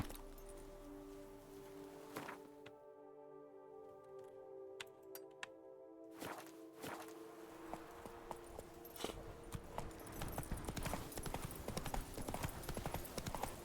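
A horse's hooves clip-clop in an evenly paced series in Witcher 3, the steps growing busier and louder toward the end against a quiet game backdrop, with a brief lull partway through.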